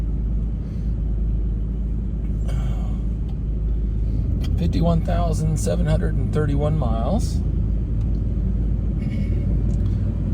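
A 1989 Jaguar XJS convertible pulls away from a stoplight, its steady low engine rumble and road noise carrying throughout while someone talks over it midway.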